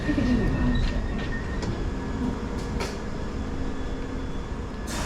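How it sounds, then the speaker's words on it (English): London Underground Piccadilly line train at Hatton Cross station, a steady low rumble and hum of the moving carriage with occasional clanks and squeals, fairly loud and continuous, with no talking. "This is a Piccadilly line service."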